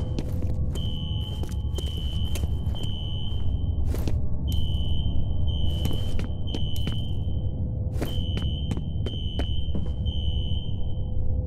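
A fire alarm rings inside an office building in the video game F.E.A.R., a steady high electronic tone pulsing in repeated bursts with short gaps, loud over a low rumbling background.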